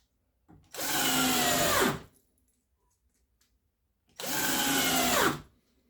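A 9-year-old cordless drill-driver whirs in two separate bursts of about a second and a half each, loud and close. Each burst spins up fast and winds down, with silence between them.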